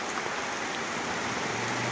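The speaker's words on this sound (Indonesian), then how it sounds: "Wow, ini malah hujan ya teman-teman." Steady rain falls in a remote old Javanese village deep in the forest on Mount Kemukus, a dense even hiss of drops on surfaces with no voices, continuous and close throughout.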